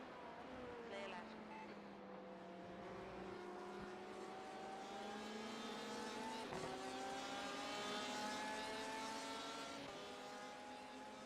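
A Porsche race car engine in iRacing at Watkins Glen roars and revs through rising gear changes, a steady mechanical drone, with faint voices underneath.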